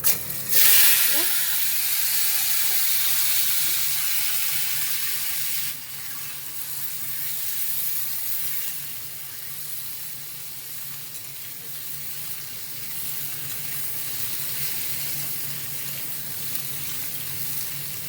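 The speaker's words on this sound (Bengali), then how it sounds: "কচুগুলো আমি একটু তেলের উপরে দিয়ে নেড়ে চেড়ে নিচ্ছি।" Taro pieces fry in hot oil in a pan, giving a loud hissing sizzle that starts strong, then settles into a steadier, softer crackle over the following seconds.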